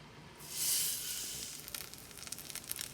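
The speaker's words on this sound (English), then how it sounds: "Now that the butter's all good and sizzling, go ahead and take your rolled up little French toast bites over here." Rolled French toast bites set into sizzling butter in a pan, a soft rising hiss as they go down, then a light crackling sizzle that stays fairly quiet and close, with no one speaking.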